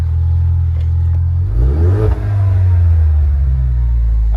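A new Dodge Challenger Hellcat, a damaged car at a Copart salvage auction, idles low and then gets a single rev that rises and falls around the two-second mark, a deep, close, steady engine rumble with no talk over it.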